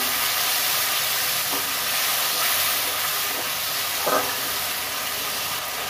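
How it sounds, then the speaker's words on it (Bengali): Urad dal curry with potatoes and spices sautéing in a pan, a steady broad hiss of frying with a few soft stirring scrapes, close and even, no talking. "এবার আমি ভালো করে কষে নেব।"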